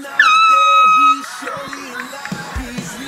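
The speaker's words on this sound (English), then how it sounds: "people that bring air horns to camp that scare everybody" A loud air horn blast at a camp sounds for about a second, then gives way to crowd noise and people talking underneath.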